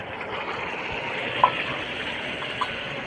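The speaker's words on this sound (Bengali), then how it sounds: "দিয়ে দিচ্ছি অল্প একটুখানি জল।" A small splash of water runs steadily into a cooking pan holding ginger, garlic and green chilli paste for a chicken dish, a soft continuous pour with a couple of faint clinks.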